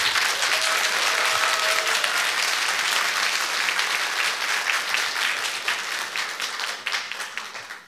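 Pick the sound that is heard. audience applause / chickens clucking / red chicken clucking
audience applause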